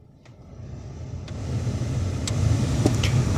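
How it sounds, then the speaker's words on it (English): Heater blower fan in an MG Rover 400/200 running with the ignition on after a heater resistor replacement, a steady broadband whoosh that rises slightly over a few seconds, with a few faint clicks. "we have all 4 speed settings of the fans back"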